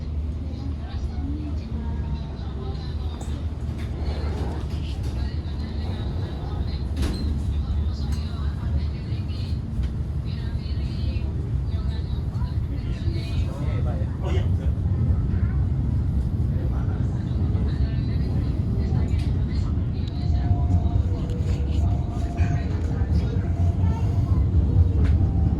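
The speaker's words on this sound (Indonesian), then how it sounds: "kereta api berantas meninggalkan stasiun Tulungagung" A vintage locomotive-hauled Brantas passenger train pulls out of Tulungagung station on the Blitar–Semarang line, its steady low rumble and rolling clatter swelling slightly louder as it departs, with faint background voices.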